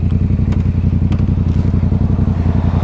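A Yamaha MT-07 motorcycle rides along the road, its twin-cylinder engine throbbing in a steady, loud, close pulsing rumble with faint clatter and wind noise on top.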